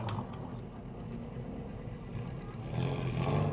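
Race cars, among them a 2008 Dodge Charger with a 2.7 six-cylinder and a 2000 Audi A6, start the Enduro 100 at Motordrome Speedway with a steady, broad engine roar that swells toward the end, with no talk.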